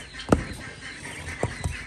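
Ducklings on a farm being let out of their enclosure: a few short quacking calls, one sharp and close, then two more brief calls near the end over a soft background.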